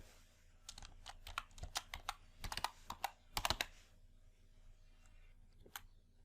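Someone types briefly on a computer keyboard while entering spreadsheet text, a quick burst of close, crisp key clicks in an irregular rhythm with short pauses, followed by a few isolated taps.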